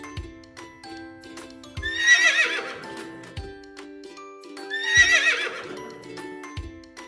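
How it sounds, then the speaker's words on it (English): Two loud horse whinnies, one at the start of each half, each a rising, trembling neigh over a steady background tone with occasional hoof thuds, in a children's alphabet animal segment. "Our next letter is H for horse."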